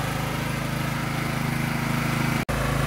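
A GE 3000 P portable generator engine runs steadily after a recoil start, a loud, even low-pitched drone that holds constant throughout with one brief dropout near the end.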